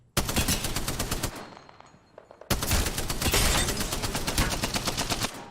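Rapid automatic gunfire from the video game Apex Legends, close and loud, with bursts of dense shots, a short lull, and then sustained firing to the end.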